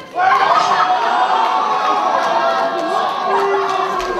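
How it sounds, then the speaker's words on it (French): A crowd at a cosplay contest cheers and applauds a costumed contestant, a loud, sustained roar of voices and clapping filling the hall. "On l'applaudit très fort"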